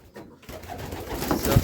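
Pigeons coo in a village dovecote, low throaty calls that build up and grow louder toward the end over a faint, roomy background.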